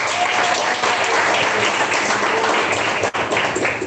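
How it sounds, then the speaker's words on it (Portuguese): A church congregation breaks into applause during a service, a full, continuous patter of many hands at close range, with a brief dip near the end before the clapping resumes. "Irmã Dani Santos, palmas e glória a Deus."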